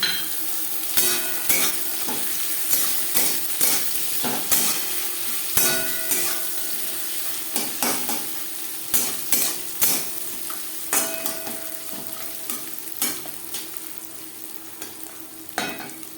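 Onion and green chillies frying in a pan, a continuous sizzle under regular spatula scrapes and clinks against the metal, close and steady for the whole stretch with no voice.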